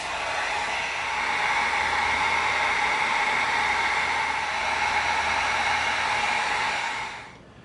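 A heat gun blowing hot air over EVA foam to seal it: a steady, loud whooshing blower hiss running continuously for several seconds before cutting off at the end, with no talking.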